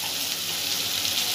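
Chicken masala frying in a pan for tadka dal, a steady loud sizzle and crackle that runs without a break, close by, with no voices.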